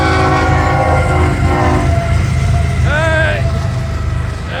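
An FEC local freight train rolls past a road crossing, its horn sounding long sustained chords over a heavy, steady rumble, with a shorter rising blast near the end.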